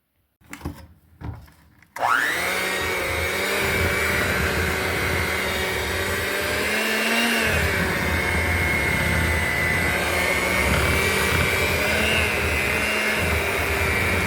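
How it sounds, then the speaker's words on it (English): An electric hand mixer beats thick Nanaimo bar filling: a few brief bumps and clicks, then the motor kicks in with a loud, steady whirring whine that runs unbroken for about twelve seconds. "I'm going to use the hand mixer and give it a go and see if it's spreadable consistency."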